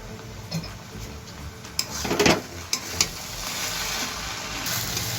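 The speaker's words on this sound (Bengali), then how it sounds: "সব কিছু দিয়ে আমি হাই ফ্লেমে প্রায় 3 থেকে 4 মিনিট এইভাবে ভেজে নিয়েছি।" Cracked wheat pulao frying on a high flame, stirred in the pan: a low, steady sizzle with a few sharp clinks and scrapes of the spoon near the middle, close and moderately loud.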